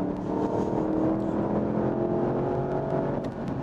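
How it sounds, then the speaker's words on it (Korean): An all-wheel-drive sedan accelerating hard in Sport Plus mode, its engine a continuous, steady drone that holds without a break, heard from inside or close by. "스포츠 플러스로 갑니다. 쭉 속도를 끌어올리고요."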